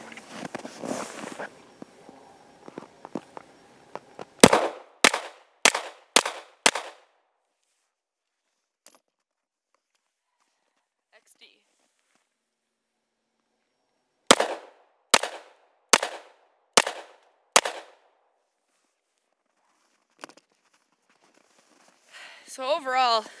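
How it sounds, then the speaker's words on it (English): Springfield handguns, a Mod 2 and an XD, fire two strings of five rapid, loud pistol shots each, separated by a long quiet pause, with talking before and after. "the Mod 2 is much easier to control for the second, third, and fourth, and fifth shots"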